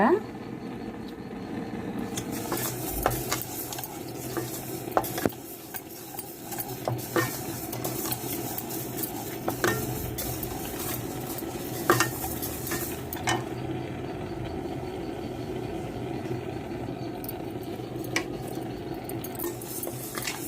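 Rice frying in ghee in a pan while being stirred, with repeated scraping clinks of a utensil against the pan over a soft, steady sizzle and a voice talking at times.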